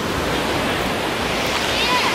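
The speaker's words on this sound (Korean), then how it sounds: "여기는 꾸따비치" Ocean surf rolls in at Kuta Beach, Bali, as a steady, loud, broadband wash of breaking waves with no clear gaps, close and continuous throughout.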